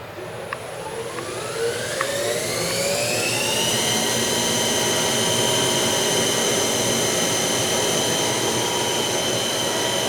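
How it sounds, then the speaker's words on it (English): The servo motor on a Kent 10 hp bed mill with 3-axis CNC spins up with a rising whine that levels into a steady high tone over a low machine hum, fairly close and alone. "So the servo motor does operate."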